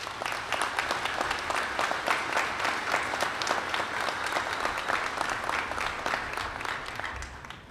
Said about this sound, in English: how about another round of applause for these seniors?